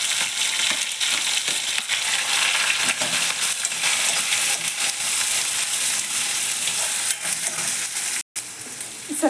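Chopped onions and green chilies fry with mustard seeds in hot oil for a tomato gojju, giving a loud, steady, close sizzle that crackles throughout, broken by a brief pause near the end.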